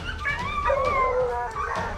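Hunting dogs in a one-acre hog-hunting bay pen, howling and yipping in overlapping, wavering cries that fill the whole two seconds at moderate distance.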